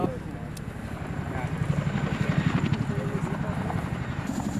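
A US Army CH-47 Chinook heavy-lift helicopter thrums with a steady rotor chop that builds slightly in loudness, heard under a person talking.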